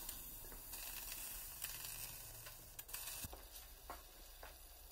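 Boiled potatoes being drained off in the kitchen, a steady, soft hissing rush of water and steam with a few light spatters and knocks, with no talk.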